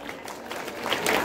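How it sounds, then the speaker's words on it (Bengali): An audience at a school gathering claps loudly, a dense continuous patter of many hands that builds slightly over a brief moment, with no talking over it. "জোরে হাততালি"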